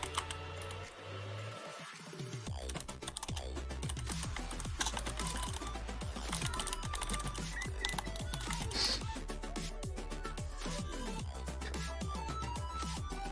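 Rapid, uneven keyboard typing, close and fairly loud, clattering steadily for most of the stretch after a short pause near the start, over a low constant background hum.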